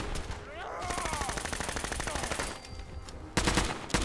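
Rapid automatic bursts from a Glock in a modded Fallout 4, a steady rattling stream of shots running nearly the whole time with a brief pause and a sharper final burst, a voice faintly mixed underneath.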